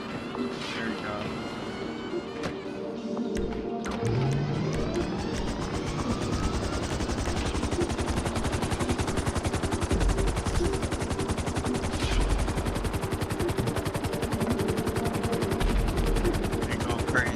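An attack helicopter in a video game fires its guns, rapid machine-gun bursts rattling continuously over the thudding rotor drone, loud and dense throughout with a brief lull near the start.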